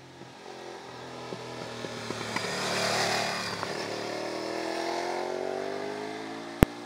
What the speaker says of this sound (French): un petit tour à bord de cette Ducati 848 Evo